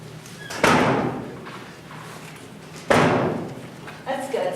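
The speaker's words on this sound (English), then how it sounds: "Doors will be shut, please." A classroom door is shut twice, each a sharp, loud thud with a brief rattle, separated by a few seconds of quiet room noise, followed by a lighter knock at the end.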